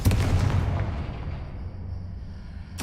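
Confringo fire spell explosion in the Hogwarts Legacy video game, a heavy booming blast that hits at once and rolls off into a fading rumble over about two seconds, followed by a short sharp sound at the end.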